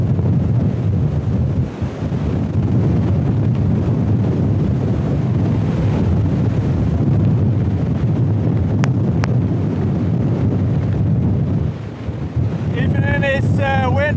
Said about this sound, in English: Even in this wind burst, WindMaster is still burning.